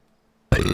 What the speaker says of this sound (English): Nice burp too.